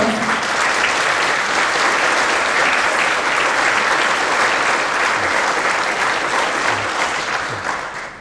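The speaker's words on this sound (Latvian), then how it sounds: "Aplausi." Sustained, dense audience applause fills the whole stretch after a Latvian folk dance group's performance at a youth festival in Adelaide, loud and steady before easing slightly at the end.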